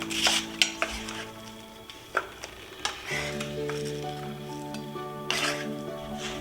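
A knife roughly chops a whole onion on a cutting board, with sharp irregular knocks against the board and kitchen clatter and hum in the background.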